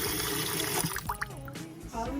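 Cold tap water runs into a cooking pot, a continuous splashing stream that gurgles and shifts in pitch as the pot fills, close and fairly loud.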